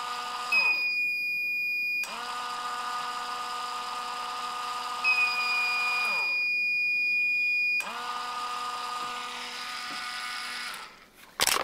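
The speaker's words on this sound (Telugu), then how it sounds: "సేమ్ మన పాత యాంటీ స్లీప్ అలారం ఎలా వర్క్ అయిందో అదే విధంగా వర్క్ అవుద్ది." A homemade anti-sleep alarm detector for drivers gives loud, steady electronic tones that sound in long bursts of several seconds, stopping and starting again with brief silences between, and no one speaks.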